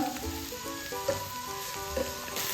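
Chili powder and a pinch of black pepper powder sauté in a hot pan for an egg and lady's finger curry. A soft, steady sizzle runs throughout at low volume, with faint scraping stirs and no one talking.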